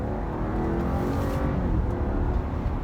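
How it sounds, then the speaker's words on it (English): Modified BMW F30 335i in manual mode pulling hard in second gear after downshifts, a steady, dense engine and road roar from inside the cabin that builds slightly, no speech. "Alright, so we're gonna put it in manual mode. Downshift to third, downshift to second, 35 miles an hour, get into it."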